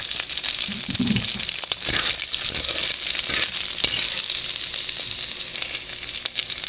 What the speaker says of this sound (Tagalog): ipiprito ko rin yung liempo ba.